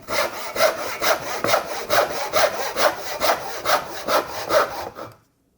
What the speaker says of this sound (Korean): 이 벤치 후크를 반대로 이렇게 해서 놓고 톱질을 하시면 미는 톱질을 하실 수가 있습니다